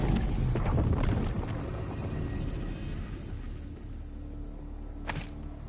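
A heavy explosion in Black Ops 6 Zombies booms at the start and rolls into a long, loud rumbling decay, with a short sharp burst near the end.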